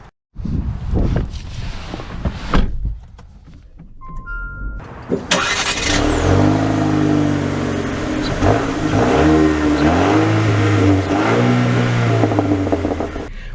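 A Jeep Renegade Trailhawk starts up and pulls away, its engine revving and climbing through several rising acceleration sweeps, loud and close with wind noise over the microphone.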